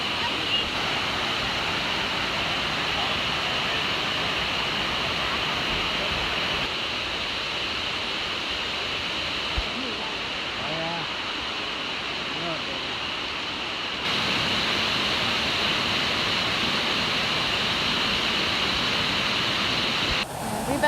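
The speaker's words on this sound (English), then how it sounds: "We've been looking at this waterfall this whole climb." A waterfall roars steadily up close on a mountain hiking trail, a dense unbroken rush filling the whole stretch, with faint voices barely under it.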